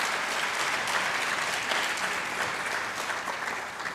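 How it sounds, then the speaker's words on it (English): A round of applause from the audience at a college's 40th anniversary celebration, dense, steady clapping filling the room before tapering slightly at the end. "If we could have another round of applause for them."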